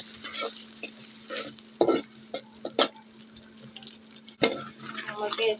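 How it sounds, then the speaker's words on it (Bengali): Chopped onion fries in hot oil in a wok while a spatula scrapes and stirs, giving a soft steady sizzle broken by sharp metallic clinks and scrapes at close range. "পেঁয়াজটা আমি ভেজে নেব"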